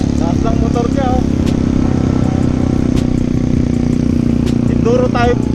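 An enduro motorcycle engine drones steadily and loudly throughout, with a rough rumble, while voices talk over it.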